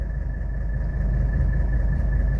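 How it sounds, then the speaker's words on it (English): A 1985 Mercedes 300D diesel engine idles at low revs, a steady low rumble with a faint whine, close and even for a couple of seconds. "Idling perfect."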